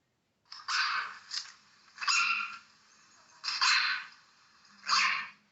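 Small dog barking four times at a steady, spaced rhythm, each bark sharp and fairly loud, close up, with near silence between barks.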